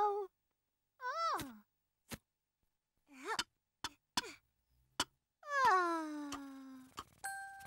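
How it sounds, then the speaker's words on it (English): Little black cat in a cartoon giving soft meows and sighing, moaning calls, separated by silences and a few sharp clicks and dings. "Yes, it's the little black cat."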